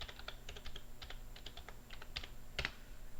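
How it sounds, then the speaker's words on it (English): Typing on a computer keyboard, a quick, uneven run of close key clicks with a slightly louder tap near the end, faint against a quiet background and with no voices. "So we're going to type jellyfish right here"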